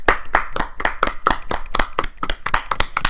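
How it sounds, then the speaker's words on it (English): A small group claps in a quick round of applause on a podcast set, with sharp, distinct, fairly close hand claps in an uneven rhythm for about three seconds and no talking over them. "Let's have a round of applause for that hero."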